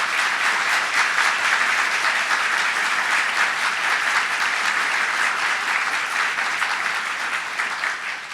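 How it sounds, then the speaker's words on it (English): Sustained, dense applause from a large audience at a New York State gubernatorial inauguration in Buffalo, steady and loud throughout, with no voices over it. "Let's give a big round of applause, Kathy Holcomb."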